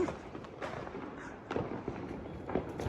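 Fireworks and firecrackers going off at a party in Amritsar, several sharp bangs and cracks at irregular intervals, moderately near, with a rumbling background between bursts.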